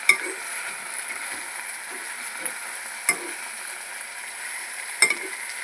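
Greens for bachhalikura bobbarlu cook in oil in a pan, giving a faint, steady sizzle with occasional soft clinks and scrapes of stirring.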